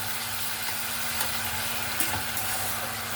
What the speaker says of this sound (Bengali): সামান্য পরিমাণে একটু জল দিয়ে দেব।